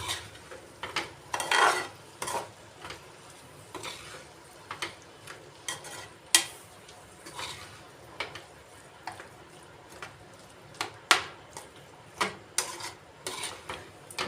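A spoon stirs butter into a sweet filling in a pan, making sporadic metallic scrapes and clinks against the pan, close and uneven, with quiet gaps between strokes.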